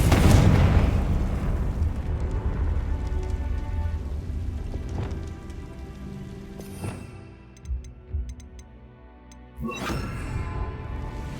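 A Confringo fire spell from Hogwarts Legacy blasts with a booming, rumbling burst at the start, then a low sustained roar breaks up into scattered crackles and sharp pops, with another blast near the end.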